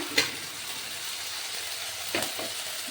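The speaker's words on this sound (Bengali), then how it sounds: "এবার আমি তাতে দিয়ে দিচ্ছি এক চামচ আদা বাটা" Ginger paste sizzles in hot oil with fried chopped onions for a rustic taro and rohu fish curry, a soft constant frying hiss broken by a few brief spatula stirs.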